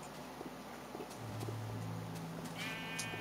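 Farm animals in the Minecraft video game, sheep and cows, low sustained moo-like tones with a bleating call near the end, faint and heard without speech.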